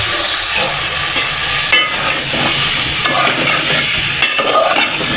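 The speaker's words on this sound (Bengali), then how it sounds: "আমাদের আলু আর মশলা একসাথে ভালো মতো কষাই নিচ্ছি এখন বেগুনটা দিয়ে দেবো" Potatoes and spices sautéing loudly in a pan, with eggplant about to be added for a koi fish curry; a dense, continuous close sizzle with constant stirring and scraping.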